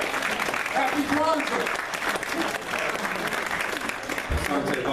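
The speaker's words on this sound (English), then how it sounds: "Y'all give them another strong round of applause." An audience gives sustained, dense applause at a Kwanzaa event, clapping steadily throughout while someone speaks briefly over it.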